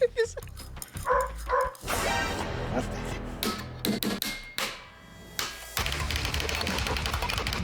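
Dog barking in a home kitchen, a few sharp barks mixed with loud clattering, whacks and piano-string noises, while people talk over it.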